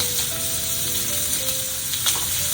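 A striploin steak sears in a pan with a steady, close, bright sizzle and crackle, a faint tonal hum running underneath.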